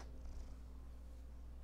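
A small kitten purrs in a steady, continuous low rumble, close and soft, with no voices over it.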